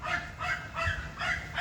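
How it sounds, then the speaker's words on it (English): A small yappy dog barks in quick, repeated yips, about four sharp barks spaced evenly, close and alone. "It's a little yapper dog."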